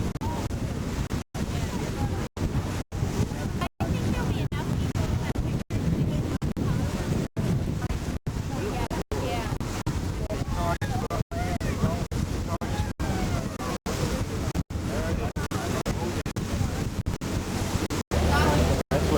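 A boat pushes through open water, with a loud, steady rush of surf and splashing mixed with heavy wind buffeting the microphone. The audio repeatedly cuts out for brief moments, and voices murmur faintly underneath.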